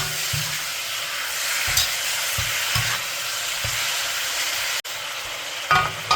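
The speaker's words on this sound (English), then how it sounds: "And cook it a little bit in the caramel." Pork belly for Chinese braised pork (hong shao rou) frying in caramel, with a loud continuous sizzle and hiss broken by repeated scraping stirs of a spatula close by. No voices.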